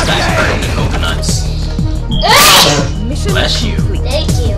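A single sharp sneeze bursts out midway over ongoing fighting-game sound effects and music, loud and close.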